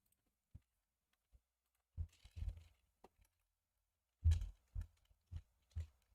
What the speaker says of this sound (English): Let me try typing something